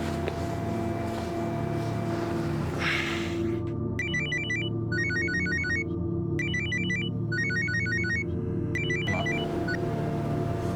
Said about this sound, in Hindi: कब से फोन लगा रही हूँ तेरा